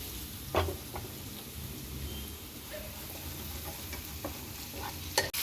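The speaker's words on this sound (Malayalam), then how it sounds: "കുറച്ച് ക്യാപ്സിക്കം നമുക്കിത് ഇത്ര ഇട്ടൊന്ന് ഈ ബട്ടറിലിട്ടൊന്ന് സോട്ട് ചെയ്തെടുക്കണം" Capsicum and onion sauté gently in butter in a pan, giving a quiet, steady sizzle with a few soft scrapes and taps as the vegetables are stirred.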